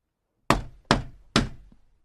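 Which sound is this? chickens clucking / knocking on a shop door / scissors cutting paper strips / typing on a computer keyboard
knocking on a shop door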